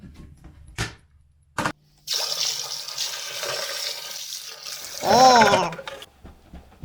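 Used carpet cleaner water from a Rug Doctor rental machine is dumped into a toilet: a couple of short knocks, then a steady splashing pour lasting several seconds, swelling into a louder gurgling rush before trailing off.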